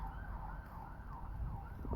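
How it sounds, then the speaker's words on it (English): Emergency vehicle sirens wail continuously, rising and falling in a steady cycle, heard at a moderate distance over a low rumbling background. "You hear the sirens?"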